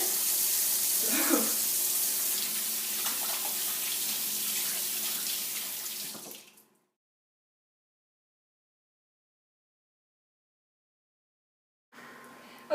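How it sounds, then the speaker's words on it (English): Warm tap water runs from a faucet into a sink during handwashing, a strong steady hiss that stops abruptly partway through, then a short silence before the flow briefly starts again. "we're going to wash the hands first. So, soap,"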